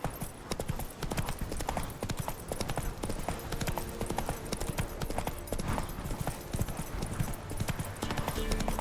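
A horse gallops in The Witcher video game, its hooves drumming in a fast, steady clip-clop that runs without a break. Faint talk sits under the hoofbeats.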